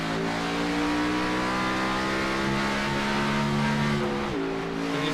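Race car on the Gateway oval accelerating out of pit road onto the back straightaway, engine climbing steadily in pitch through the gears with a shift near the end, loud and close throughout.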